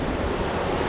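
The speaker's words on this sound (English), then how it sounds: "The storm's cleared, but it's still windy. Very windy." Lake Michigan waves wash and roll in strong wind just after a storm, a loud, dense roar of surf and gusting wind buffeting the microphone with no voices.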